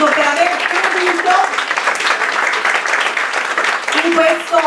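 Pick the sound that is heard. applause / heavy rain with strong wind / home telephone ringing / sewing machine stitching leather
applause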